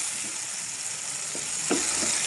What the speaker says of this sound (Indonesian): Ini minyaknya udah panas, langsung saja ditumis bentar ya teman-teman.